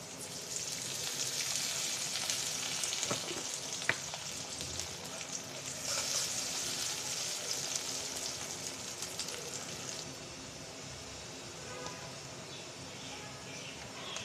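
Oil heating in a pan with a bay leaf, a continuous bright sizzle with crackling pops that eases off near the end.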